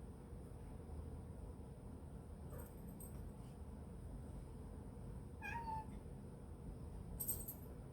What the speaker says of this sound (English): You meow, Mr. Bunsen.